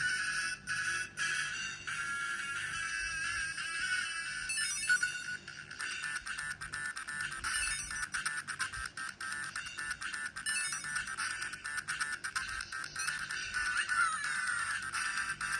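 Bright, busy Mario Kart racing game audio on a Powkiddy V90 handheld, with chiming tones and steady high jingles, continuous and fairly loud throughout with no talking.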